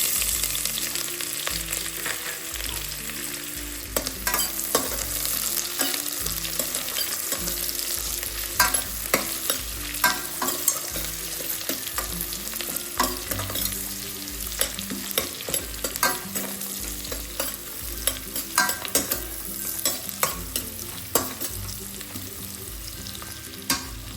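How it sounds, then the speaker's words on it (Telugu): Chopped onion frying in a pan for mushroom matar pulao, a constant loud sizzle with repeated scraping strokes of a spoon stirring through it. "ఇప్పుడు దీనిలోకి 1 కప్పు ఆనియన్ వేసుకున్నాం."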